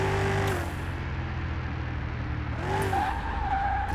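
A car revs and skids around a racetrack in Car Mechanic Simulator 2021, running on Dominator wheels, with a loud steady engine drone and tire squeal, the engine note dipping and climbing again, no talk.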